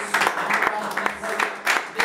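A church congregation at a Sunday service applauds, a steady wash of clapping with rhythmic accents, under and around ongoing speech and voices.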